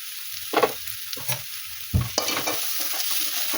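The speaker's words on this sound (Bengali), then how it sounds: "এই যে গাজরটা আগে একটু ভাজাভাজি করে নিলাম" Carrots with chopped chili and onion fry in oil in a pan while a spatula stirs them. Several sharp scraping strokes punctuate a steady, soft sizzle, with no talking.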